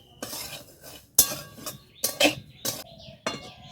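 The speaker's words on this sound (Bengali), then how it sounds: "প্রথমে আমি যে সুজিটা কাঠকলায় একটু ভেজে নেব" Semolina dry-roasting in a wooden-handled wok while a spoon scrapes and taps against the metal, making several sharp, close clinks and scraping strokes with short quiet gaps in between.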